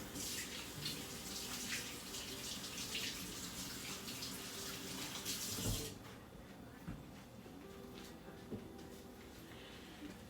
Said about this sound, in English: So let's wash our hands.